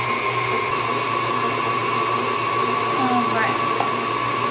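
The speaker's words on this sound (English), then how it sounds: "just turn on the mixer" An electric stand mixer beats butter for birthday cake frosting, a loud, steady motor whir running without a break, with a short spoken remark over it.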